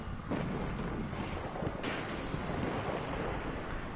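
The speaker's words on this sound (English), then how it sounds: "I'm gonna be able to peg them with the auto rifle." Auto rifle fire in the shooter game Destiny 2 comes as a dense run of booming, rumbling shots with a few sharper cracks, loud and continuous over a few seconds with no talk.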